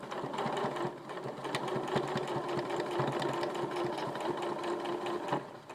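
A sewing machine stitching a quilt-as-you-go cushion cover, running in a steady, fast, continuous mechanical whirr of needle strokes close by, slowing briefly near the end.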